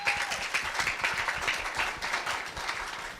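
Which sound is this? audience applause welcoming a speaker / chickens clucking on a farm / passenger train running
audience applause welcoming a speaker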